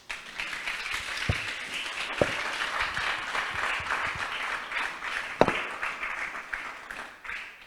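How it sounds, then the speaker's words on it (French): A church audience at a Christian sermon on decent dress breaks into sustained, moderately distant applause, dense clapping with a few sharp louder claps standing out, and no voices over it. "On nous applaudit encore à la gloire de Dieu"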